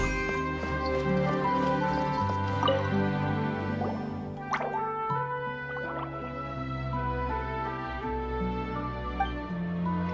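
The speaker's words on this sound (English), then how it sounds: "it sounds like a water droplet is on the second floor!" Water droplets drip in Genshin Impact during a Secret Summer Paradise event scene, a stream of bright plinking drops over sustained tonal game music, with one sharper drip near the middle.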